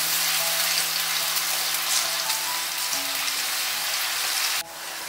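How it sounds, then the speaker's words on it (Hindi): Ginger garlic paste fries gently in a pan over medium-low heat, giving a soft, even crackle that stays steady and fairly quiet, then drops off sharply near the end, with no talk. "अदरक लहसुन के पेस्ट को हम थोड़ा सा भून लेंगे. हमने आंच मीडियम टू लो रखी हुई है."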